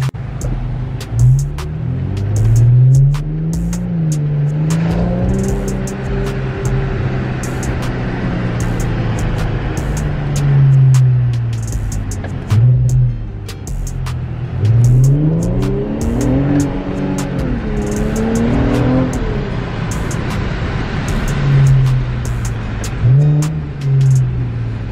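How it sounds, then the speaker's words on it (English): An Infiniti Q50 engine revs and drops repeatedly as it downshifts on a rainy night highway, loud and close from inside the car, rising and falling pitch in several swells over a constant road rumble. "I want to give you some like downshifting."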